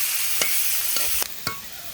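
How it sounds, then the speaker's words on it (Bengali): Onion frying in oil in a pan for a fish curry, a steady hiss of sizzling with a few brief stirring clacks, close and without talk. "এখন আমি পেঁয়াজটাকে বাদাম করে ভেজে দেবো।"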